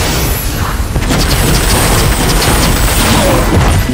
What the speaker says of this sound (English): It's about the loudest the game gets is when you have a fire tornado and you're shooting arcane bolts into it.